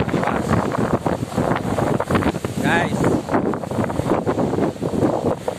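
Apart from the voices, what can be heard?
strong wind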